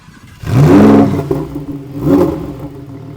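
A Lamborghini Huracan Evo starts up with a loud exhaust bark that swells and fades, followed by a second rev as the engine settles into a throaty idle nearby.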